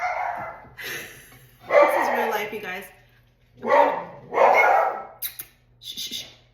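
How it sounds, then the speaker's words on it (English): A pet dog indoors barks in several loud, close bursts, with whimpering yips between them, while a person talks over and among the barks. "oops, sorry about my dog."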